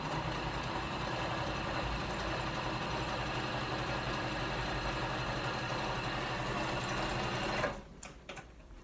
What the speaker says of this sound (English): I'll just drop the boot on it and press the pedal, and it will pull the fabric right through